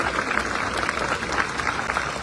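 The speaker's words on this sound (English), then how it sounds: "The crowd break into spontaneous bovine applause." An outdoor crowd at the accession proclamation of King Charles III in Inverness applauds in a continuous, moderately loud patter of many hands for two seconds.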